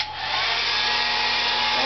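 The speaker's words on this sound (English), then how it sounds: "you may think this is a hanger, but no, it's a hairdryer." A hairdryer shaped like a clothes hanger blows a loud, steady, airy rush that runs unbroken from start to finish, close up and with no talking.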